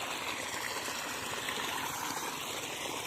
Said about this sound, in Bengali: মোটরের মানে জল ছেড়ে দিয়েছে ধান খেতে জল ঢুকছে